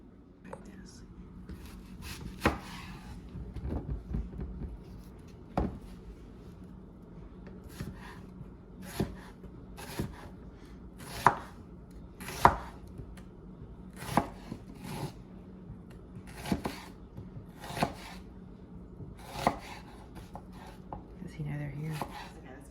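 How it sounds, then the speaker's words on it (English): A knife slices through onions on a cutting board, giving a series of sharp, irregular thuds close by with quiet handling sounds between the cuts. "I'm going to kind of slice them and with a knife here"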